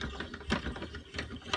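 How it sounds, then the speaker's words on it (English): A bench vise is spun open, giving a short run of quick metallic ratcheting clicks, close and moderately loud. "spin the vise right out"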